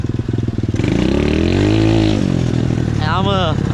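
Pit bike engine ridden through mud, a loud, close motor revving up and easing back with a buzzing drone, with a voice also present.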